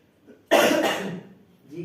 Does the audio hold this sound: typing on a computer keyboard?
no